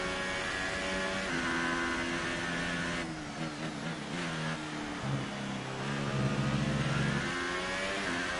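A Ferrari Formula One car approaches from behind in the F1 2018 video game, its high-revving engine whining and shifting pitch steadily over the player's own loud engine drone, with gear changes and rising revs throughout.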